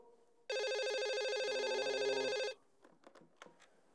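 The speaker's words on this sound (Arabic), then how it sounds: "حد يرد على التليفون. يا اخوانا حد يرد على التليفون." A telephone rings loudly and steadily for about two seconds, a continuous electronic trill that cuts off abruptly, followed by faint clicks and rustling in a quiet room.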